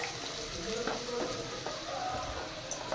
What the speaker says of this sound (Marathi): आपण इथे कढईमध्ये तेल टाकून घेतलेलं आहे. त्याच्यामध्ये आता टाकणार आहोत कांदा